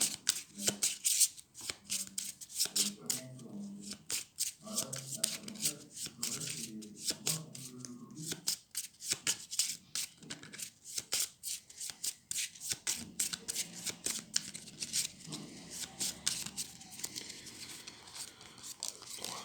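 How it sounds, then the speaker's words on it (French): A deck of cards for the Xenoshyft card game is shuffled by hand in repeated bursts of riffling and sliding, close and crisp, with a few low murmured words in the background. "je mélange et je vais piocher 6 cartes"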